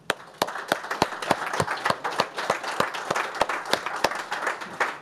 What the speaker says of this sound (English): I'd just like to give a round of applause for the speakers.